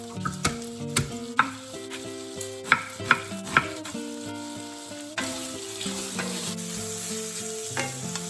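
Food sizzling steadily in a frying pan as grease renders out, a constant crackling hiss with several sharp clinks of a utensil against the pan and music playing alongside, close and clear.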